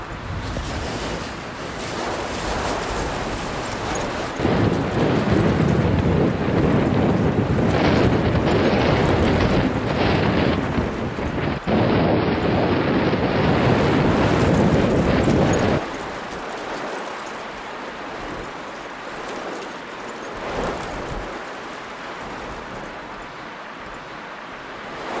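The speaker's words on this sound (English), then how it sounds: "Footage of Japan television showed the storm shaking trees, violent and heavy rain lashing the pavement." Typhoon Merbok lashing Alaska with violent wind and heavy rain, a loud, continuous roaring wash that surges heavier in the middle and then eases to a steadier rush, with no voices.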